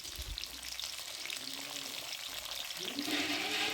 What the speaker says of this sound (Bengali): এবার আমি ভেজে নেব ফুলকপি।